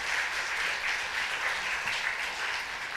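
A room full of people applauding at a church dawn service, steady dense clapping sustained throughout at moderate loudness.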